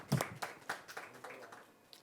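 Applause at a press conference for a film awards event, a scattered round of hand claps that starts sharp and close, then thins out and fades.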